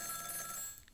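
An electronic telephone ring from the video game Ghost Trick, a single short, faint trilling burst heard alone.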